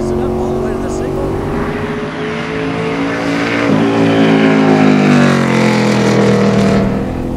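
A race car engine accelerates hard on a track, a loud, continuous roar whose pitch climbs and swoops as it revs, with a voice speaking over it.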